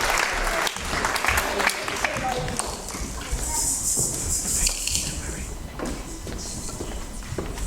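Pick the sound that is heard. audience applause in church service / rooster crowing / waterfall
audience applause in church service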